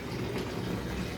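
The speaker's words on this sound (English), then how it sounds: "Okay, I'm just going to allow the water to be filled up." Hot water pours steadily into a basin to soak a workout mat mixed with laundry soap. The rushing, hissing fill holds at one level for the full length, with no talk.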